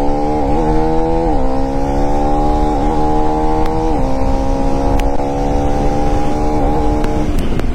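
A 390 motorcycle accelerates hard at full power, its engine note climbing steadily through several gear changes, loud and continuous from the rider's position with constant wind and road roar.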